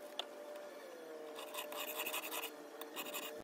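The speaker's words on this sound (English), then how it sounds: "as I'm sharpening it, the Sharpie will get rubbed away" Steel chisel rubbed back and forth on a coarse sharpening stone, giving a steady gritty rasping scrape that swells in uneven strokes, close and fairly quiet with no talk.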